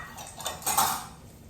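Risotto rice being stirred in a pot, a spoon scraping and clinking against the metal in a short close burst that swells in the middle, with no talking.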